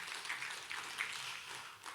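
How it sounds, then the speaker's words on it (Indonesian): A church congregation claps together in a steady, even wash of applause that continues at a moderate level for the whole short stretch. "Berikan tepuk tangan bagi Tuhan."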